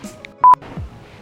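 A mobile phone gives a single short electronic notification beep, loud and close, in a quiet room with faint background sound before and after.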